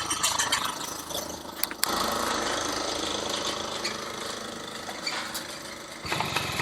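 A restored Yamaha F1ZR two-stroke motorcycle runs after a kick start, its engine droning loud and close with steady revs, a few sharp clicks and a brief dip near the end.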